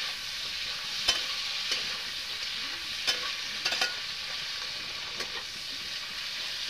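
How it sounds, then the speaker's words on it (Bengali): Country chicken meat frying in a covered pan for a light curry with potatoes, a steady close sizzle with a few sharp stirring clatters, no voices. "তো আগে প্রথমে মাংসটা আমি ভাজে নেব।"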